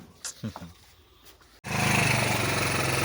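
A small engine on a teen-sized buggy under repair starts up after a few brief spoken words and then runs at a steady, buzzing idle, fairly close and loud.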